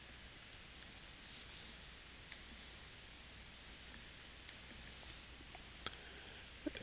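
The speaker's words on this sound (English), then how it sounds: "Up here, I type in the full folder path where the file is located" Faint, scattered clicks of typing on a computer keyboard, irregular taps that grow slightly quicker toward the end, over a quiet room hiss with no talking.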